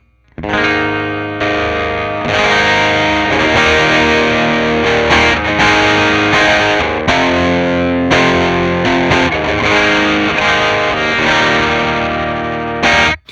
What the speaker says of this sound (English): as we turn it up, we introduce more overdrive, more distortion, so we get a dirtier sound